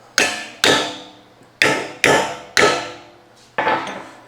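A four-pound hammer strikes a stainless steel pump shaft six times in an uneven rhythm, each blow a sharp, loud metallic impact with a short ringing decay, close by and with no talking.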